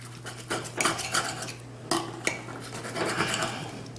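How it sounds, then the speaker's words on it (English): Knife and fork cutting gently through bacon-wrapped chicken Alfredo with spinach and mushrooms on a plate, a run of soft scraping clinks of cutlery on crockery with a couple of sharper taps, close and moderately quiet. "I'm going to just slice in there gently."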